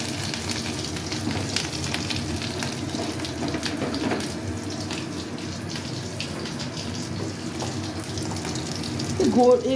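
Katla fish egg fritters fry in hot oil with a steady, dense sizzle that holds evenly throughout, close and moderately loud, swelling a little at the very end.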